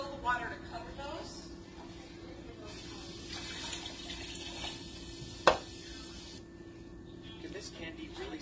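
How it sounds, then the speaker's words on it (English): Tap water runs steadily into a canner holding jars of serrano and jalapeno peppers, a soft continuous splashing hiss with a brief clink midway. "Then I'm going to fill the water to cover those."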